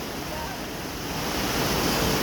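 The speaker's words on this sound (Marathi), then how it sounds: "ज्या पद्धतीनं पूर्णा नदीचं पाणी या पात्रातून वाहत आहे" The flooded Purna River in Jafrabad taluka rushes past in a steady, dense roar of water that swells slightly louder over a couple of seconds, mixed with wind buffeting the microphone.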